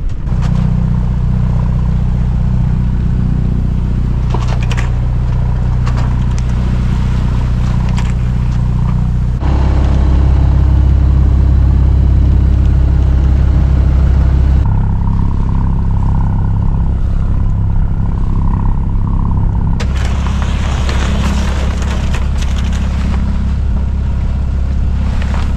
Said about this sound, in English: You can get the engine going here.